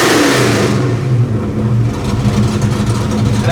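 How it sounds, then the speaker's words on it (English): A Ford Mustang Foxbody engine settles from a higher rev down toward idle, the pitch falling in the first second before a steady, loud, close rumble holds with no talking. "That's a nice drop in idle."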